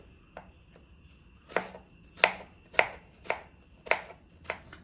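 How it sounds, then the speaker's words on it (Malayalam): A knife chops snake gourd into small pieces on a board, giving about seven distinct, close, crisp strikes at an uneven, unhurried pace with quiet pauses between them. "പിന്നെ ചെറുതാക്കി കട്ട് ചെയ്യാം. ഇതേപോലെ ചെറുതാക്കിയിട്ട് കട്ട് ചെയ്യാം."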